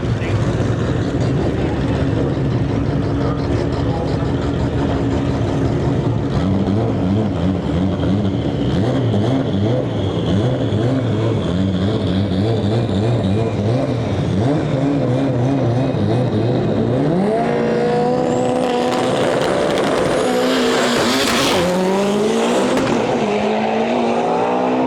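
A drag race pass between a 6-second stick shift Camaro and a little Nissan 240 SX: loud sustained engine roar with rising revs and gear changes, ending in a surging high-pitched scream as the cars pass close, with a commentator talking underneath.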